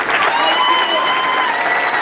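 A crowd at a bowling championship, the USBC Masters, applauds in a dense, steady wash of clapping, loud and continuous, with faint tonal tones running underneath.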